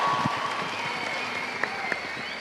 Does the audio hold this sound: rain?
no